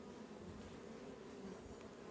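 Honey bees buzz at an open hive while colonies are prepared for wintering, a faint, steady hum from many insects with no voices.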